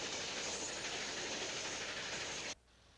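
Central of Georgia Dixie Flyer passenger train, double-headed, rolling past with a steady broadband roar and rail rumble, loud and continuous, then cutting off abruptly near the end.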